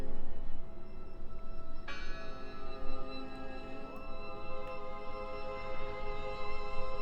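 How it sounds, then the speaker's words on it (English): A bell rings in the video game Draugen, a faint single strike that lingers with a long, fading metallic ring over quiet ambient background. "Listen! The bell! They're still in there!"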